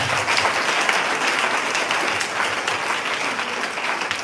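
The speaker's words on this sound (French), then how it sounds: "on peut acclamer pour le Seigneur Jésus" An assembled church congregation claps continuously, a thick, even roar of hands with scattered sharper claps standing out through the whole stretch.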